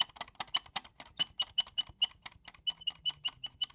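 Rapid, quiet clicking and high squeaks from digital saxophone keys being pressed up close, a busy irregular patter with faint tonal chirps.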